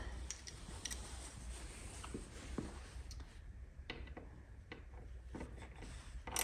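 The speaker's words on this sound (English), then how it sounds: "And then we take a ratchet tool." Ratchet tool tightening a mirror bolt on a BMW R NineT Racer motorcycle, giving quiet close clicking bursts and short ratcheting runs with faint pauses between strokes.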